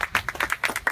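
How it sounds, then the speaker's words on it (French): An audience at a foundation-stone ceremony gives a brief, quick burst of hand claps, each sharp and close together, over less than a second. "Vous pouvez l'applaudir."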